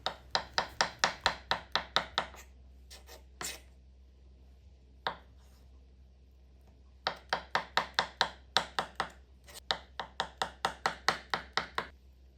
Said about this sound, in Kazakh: Суға піскен жұмыртқаларды турап аламыз.